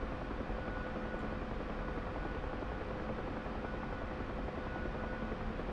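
A Huey medevac helicopter in the DCS World flight simulator drones steadily with a dense, continuous rotor and engine roar, heard from inside the cockpit at an even level throughout.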